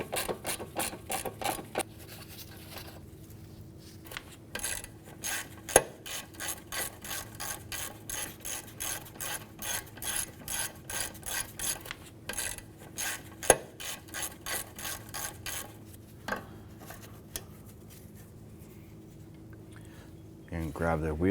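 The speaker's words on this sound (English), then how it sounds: "10mm socket, we're going to remove our nuts that are securing our ABS wire here." A ratchet with a 10mm socket spins off nuts holding an ABS wire bracket on the front strut of a 2004-2008 Acura TL, giving long runs of rapid close clicking with a few sharp knocks between bursts.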